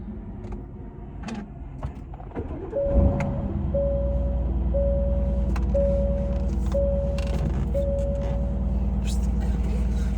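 An Aston Martin fires up with a sharp start, then settles into a loud, steady idle rumble while an in-car chime beeps in a regular pattern and a voice speaks faintly.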